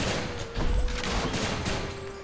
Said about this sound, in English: these things keep driving at me with their explosions